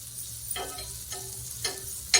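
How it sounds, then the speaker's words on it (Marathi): Quiet sizzling of butter on a hot griddle for toasting a vegetable cheese sandwich, with a few short scraping strokes repeating at roughly half-second intervals over a faint frying hiss. "तव्यावरती आता आपण बटर टाकून घेणार आहोत"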